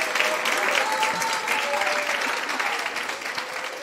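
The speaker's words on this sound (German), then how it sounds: "Bitte einen großen Applaus, virtuell, aber trotzdem groß und gewaltig." Sustained audience applause at a science slam held in a planetarium, a dense, even wash of clapping that holds steady throughout and fades slightly toward the end.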